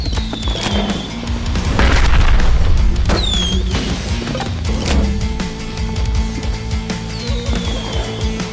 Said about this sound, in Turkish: Uçanları patlat, uçanları patlat.